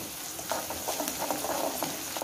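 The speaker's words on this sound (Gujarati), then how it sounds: "આ ડુંગળી આપણે શેકી લઈશું" Onion fries in a pan over a gas flame for upma, giving a faint steady sizzle broken by soft stirring scrapes and light crackles, close and without talk.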